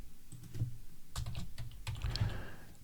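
Fingers typing quickly on a computer keyboard, a steady run of close, crisp key clicks with brief pauses between bursts.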